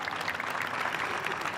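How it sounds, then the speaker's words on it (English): A crowd at a karting podium ceremony applauding, a short burst of dense, steady clapping at moderate distance. "one big final round of applause for your OKN Senior"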